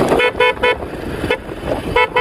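A borrowed motorcycle's loud horn honks in repeated short blasts on the ride home. Each toot is bright and tonal and is heard over road and engine noise, with gaps between the bursts.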